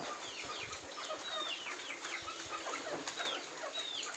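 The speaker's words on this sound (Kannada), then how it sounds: "ಇದು ತುಂಬ ಹಳೆಯ ಹುಂಜ." A flock of native country chickens with an old rooster of four or five years and its chicks cluck and peep continuously nearby, with high chirps scattered over a steady barnyard murmur.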